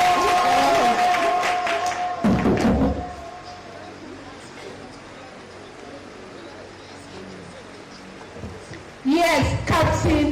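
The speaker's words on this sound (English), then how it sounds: "Clap for him! Clap for him!" Audience applause and cheering for a speaker at a public gathering on the state of the nation, heard in bursts at the start and end with a quieter stretch of crowd murmur between.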